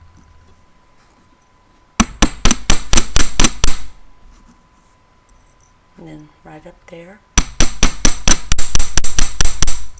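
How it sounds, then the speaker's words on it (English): Metal ear wires are struck repeatedly with a hammer on metal, two bursts of rapid, loud, sharp ringing taps, with a person speaking briefly between them. "Now hammering, always takes it out of shape a little bit"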